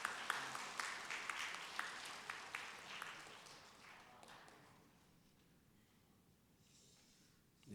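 Audience applause at an award ceremony in Suan Presbyterian Church, scattered claps fairly faint and fading after about four seconds into quiet room tone.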